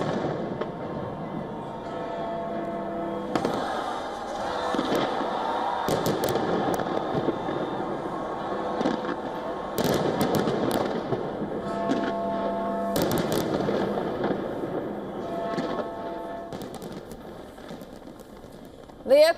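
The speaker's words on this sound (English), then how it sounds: "the city celebrated with an extravagant fireworks display" New Year fireworks over London near Big Ben, sharp bangs and crackles spread through a steady wash of crowd and city noise, with a voice speaking over much of it.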